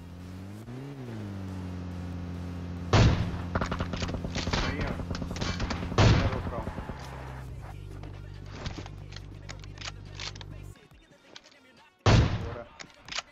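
Sniper and rifle shots in PUBG Mobile hardcore mode crack out as a few loud separate bursts over a steady droning game background with low engine-like hum.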